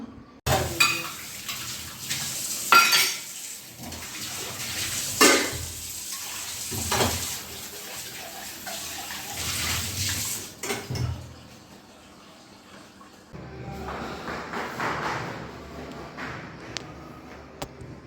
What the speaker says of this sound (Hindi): चलिए पहले मैं बर्तन वाश कर लूँ